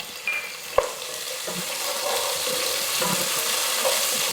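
Cashews and raisins fry in a pan for dum biryani, giving a steady close sizzle with occasional spoon scrapes and stirring clinks.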